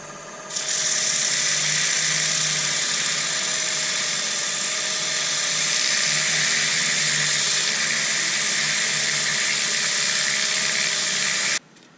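A hazel bowl spinning on a wood lathe while 120-grit sandpaper is pressed against it makes a loud, steady, high-pitched whirring hiss that runs unbroken for about eleven seconds, then cuts off abruptly.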